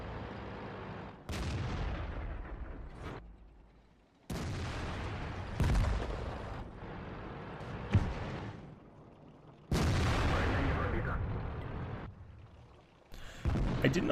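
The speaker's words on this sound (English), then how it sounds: "so I quickly swing around, plant a good shot into him" Heavy tank cannon fire from an IS-6 in World of Tanks on the Siegfried map, several loud, booming shots spaced a few seconds apart, each followed by rumbling decay, with no talk.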